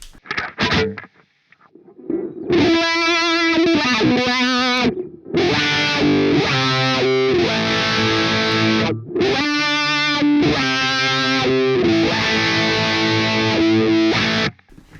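A distorted electric guitar through a VOX Joe Satriani Satchurator distortion pedal plays chords and sustained notes in bursts, with a sweeping wah-like tonal shift, loud and close, separated by short pauses.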